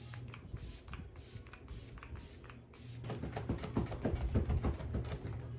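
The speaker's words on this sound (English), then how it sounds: "So then I take my setting spray and then I set my face before I go on with powder." Makeup setting spray misted onto the face, heard as a run of soft, hissing pump sprays in short bursts, followed by quieter tapping and rustling as the spraying stops.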